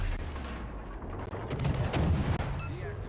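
Naval guns in World of Warships: Legends fire on a battleship, loud booming salvos with rumbling blasts building in the middle over a steady background roar.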